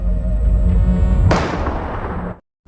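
A gunshot in a film scene: a low rumbling tone builds, then a single sharp, loud crack with a decaying boom, cut abruptly to silence.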